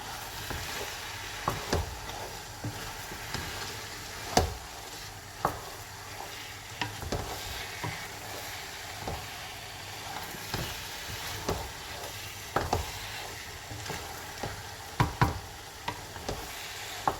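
Grated carrots, about half a kilogram, stirred and roasted in a pan for gajar halwa, giving soft scraping stir strokes with occasional knocks of the spoon against the pan over a low steady sizzle, with no talking.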